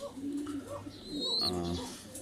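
Pigeons kept as pets coo softly and close by in a short burst, a low throaty murmur with a brief higher call in the middle.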